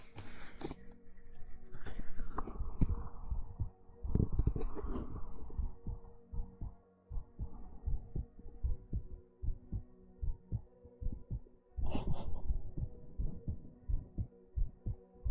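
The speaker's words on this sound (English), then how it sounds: "I tried heartbeats." A low, rhythmic thumping heartbeat pulses steadily throughout, with a few brief sharper noises over it and no talking.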